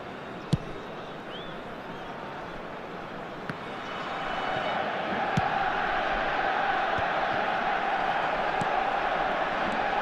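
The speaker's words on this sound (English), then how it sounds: "a lot of applause for the thought" Stadium crowd in the eFootball video game, a steady broad roar of applause and cheering that swells louder partway through, with a few sharp isolated knocks over the din.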